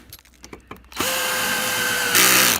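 A power drill or driver tightens four screws in a garage workshop build, with a few short clicks before a steady loud whirring motor that rises in pitch near the end, no talk.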